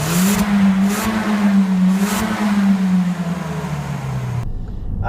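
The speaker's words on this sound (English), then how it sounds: "there could be a bit more exhaust noise. It makes an okay noise, but it feels like it's muffled slightly at times" A 2014 Peugeot 208 GTI's exhaust drones steadily while driving, a loud continuous engine note that holds level for several seconds, then the level drops slightly as the sound fades out near the end.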